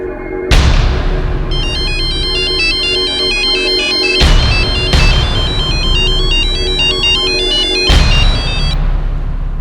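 A phone ringtone plays loud and close as a repeating melodic tone in three bursts over a heavy low rumble.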